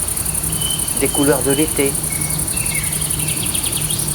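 Crickets chirp loudly and steadily outdoors on a summer day, a dense and continuous trill that fills the whole stretch. A voice speaks briefly over the chirping in the middle.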